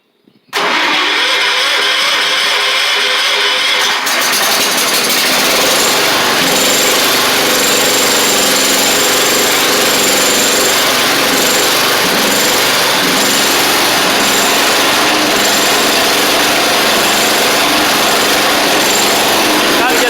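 A 1985 Wheel Horse 312-8 garden tractor engine cranks and catches, then runs loud and steady close by with a continuous buzzing drone that does not let up.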